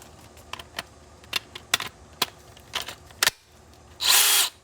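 A DeWalt 20-volt max cordless drill with a 4 amp battery pack gives a few short, near, loud whirring bursts in first gear, ending in one sustained run of about half a second, with clicks and handling noise between.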